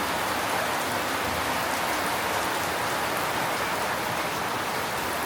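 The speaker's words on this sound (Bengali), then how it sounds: "প্রচণ্ড বৃষ্টি হচ্ছে মানে মুষলধারে বৃষ্টি শুরু হয়েছে" Heavy rain pours down in a steady, dense roar, close and loud throughout, with no voices or breaks.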